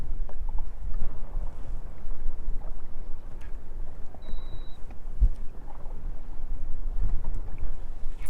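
Fishing boat moving on the water during spring smallmouth bass fishing, a low continuous rumble with wind buffeting the microphone and occasional small knocks.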